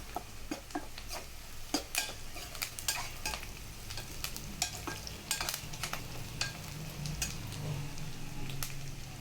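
Curry leaves fry with sautéed onions in a pan for egg thokku, giving a faint, low sizzle broken by frequent sharp clicks and taps of a spoon stirring against the pan.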